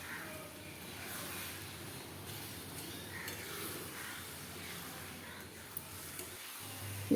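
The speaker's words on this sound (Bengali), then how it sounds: "আমি আস্তে আস্তে করে খুন্তি করে নেড়ে দিচ্ছি।" Mangoes cooking down for a sweet-sour-spicy mango naru, stirred slowly with a spatula, giving a steady soft sizzle and scraping hiss throughout with a few faint clinks near the end.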